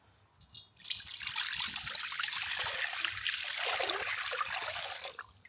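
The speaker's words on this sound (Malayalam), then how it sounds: "നമുക്ക് വെള്ളം ഒഴിച്ചു കൊടുക്കാം." Water is poured steadily into a pot for a seafood boil, a continuous splashing stream lasting about four seconds, close and fairly loud, with no talking.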